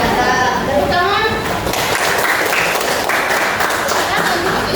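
Classroom audience clapping after a group presentation, a dense wash of many hands sustained steadily for about five seconds, with children's voices mixed in.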